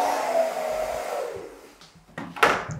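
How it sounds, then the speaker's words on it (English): A handheld hair dryer blows steadily on its cold-air setting during a salon haircut, a loud whooshing rush that slowly fades over two seconds before short bursts of airflow and handling noises return, with no talking. "Press the cold air button on your hairdryer if you've got one."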